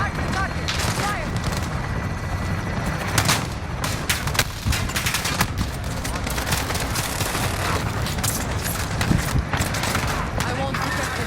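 Dense gunfire and explosions in the video game Call of Duty: Modern Warfare co-op operations, with continuous rattling bursts and booms filling the whole stretch, loud and close, with voices talking over the battle.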